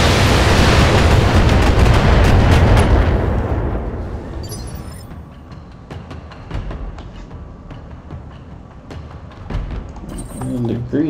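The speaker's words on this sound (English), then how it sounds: "I guess we'll just fire the LMRs first. Firing full complement on him." Mech weapons in the Battletech video game unload in a loud, dense barrage of booming explosions for about four seconds, then settle into scattered thuds, clanks and mechanical rumbles at lower level.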